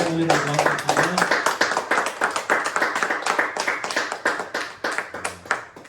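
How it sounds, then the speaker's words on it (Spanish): A church congregation claps together in a dense, steady stream of hand claps that runs the whole time, with voices singing or calling out over it at the start and near the end. "Démosle un aplauso al Señor"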